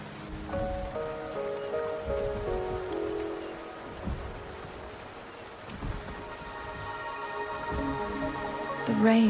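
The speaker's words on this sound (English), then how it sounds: "The rain is subsiding, and the sky will soon clear." Rain falls in a video game, a dense steady patter across a surface that continues throughout, with soft sustained tonal layers drifting underneath and a brighter swell near the end.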